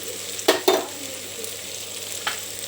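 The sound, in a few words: ginger paste frying for mutton curry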